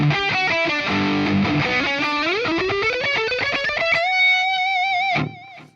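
A song's main riff played on a distorted electric guitar, a fast run of sustained, harmonically rich notes with sliding bends that climbs to a long vibrato-held high note before cutting off; loud and alone, no voices.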